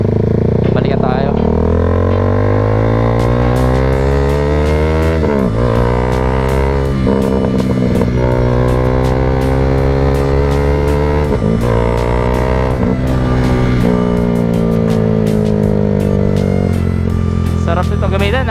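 A Husqvarna Vitpilen 401 motorcycle with a Termignon canister exhaust, revved hard in repeated climbing pulls that each sweep upward, drop back and climb again, loud and close throughout with voices talking faintly underneath.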